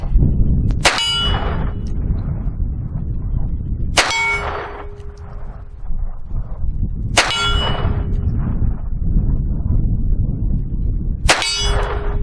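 Four sharp metallic shots from a Phoenix Arms HP22A pistol fired at a target outdoors, evenly spaced a few seconds apart, each ringing briefly over a steady low background rumble.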